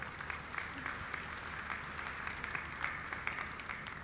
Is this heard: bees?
no